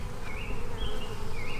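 A problematic swarm of honey bees buzzes close and steadily, a dense droning hum with individual bees whining past in rising and falling tones, and no voices.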